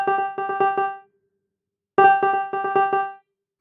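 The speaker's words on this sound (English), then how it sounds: "So you just get 1 second's worth of random impulses, which sounds something like this." Reverb plugin tap delay producing a burst of random impulses with no decay, each tap at equal strength: two clusters of sharp, pitched clicks about a second long separated by silence, fairly loud and dry.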